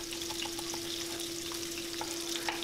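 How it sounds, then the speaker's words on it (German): Bell pepper pieces fry in hot oil in a pan, making a steady, dense sizzle that holds at an even level with no voices. "Dann geben wir Öl in die Pfanne, erhitzen es und geben die Paprika hinein."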